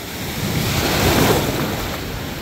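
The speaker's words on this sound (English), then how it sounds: "The ocean sound" Ocean surf washing onto a beach makes a steady, loud broadband roar, heavily buffeted by wind on the microphone, continuous throughout with no voices.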